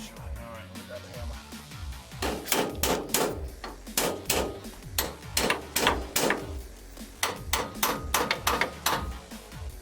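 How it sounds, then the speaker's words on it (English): A series of sharp metallic hammer strikes on a vehicle's steering box, irregular then in quick bursts, fairly close, with brief talk early on. "Did we hit it with a hammer a couple times?"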